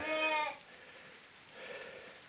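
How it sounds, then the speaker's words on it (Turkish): A sheep on a snowy farm gives a short bleat, followed by a quieter, more distant bleat from the flock in an otherwise calm outdoor setting. "Koyun aşağıda otunu yesin."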